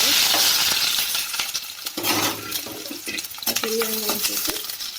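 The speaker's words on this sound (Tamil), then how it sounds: "கடாயில் எண்ணெய் ஊற்றி அது நல்லா ஹீட் ஆனதுக்கப்புறம் பட்டை, அன்னாச்சிப்பூ, ஏலக்காய் போடுறோம்" Cinnamon, star anise and cardamom sizzling in hot oil in a kadai, a steady close frying hiss with stirring scrapes and a few metallic clinks, no voice over it.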